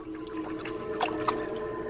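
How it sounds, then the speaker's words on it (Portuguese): Frogs moving in a pond stir the water, giving a soft, close gurgle with a couple of faint splashing burbles over a steady background. "O movimento dos sapos faz com que a água se agite"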